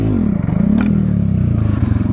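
A motorcycle revs and slides during a wheelie attempt, its tyre slipping and scraping across the ground with a steady low engine drone and a brief clatter, close and loud throughout.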